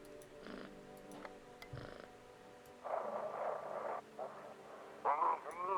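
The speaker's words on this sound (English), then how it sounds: "Pet the cat." A cat purring in a video game after being petted, soft low rumbling purr bursts with a few faint clicks, quiet and intermittent, growing slightly louder toward the end.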